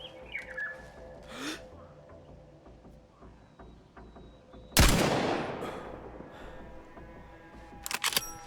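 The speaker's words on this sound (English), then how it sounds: "Everything about this gun sounds awesome." A gun fires in the survival game DayZ near a summer camp by a medical building in Chernarus. One loud, sharp shot with a long trailing echo sounds midway, then a few quicker, fainter cracks follow near the end over soft ambient outdoor noise.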